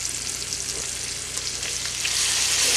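Home-canned roast beef sizzling and frying in a pan, a continuous crackling sizzle heard up close that grows slightly louder toward the end.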